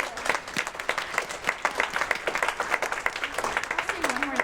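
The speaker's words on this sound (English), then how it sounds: "Give a round of applause for." Audience applause fills a Lunar New Year gala hall after a classical music performance, a dense steady patter of many hands clapping close and loud, with a voice rising briefly near the end.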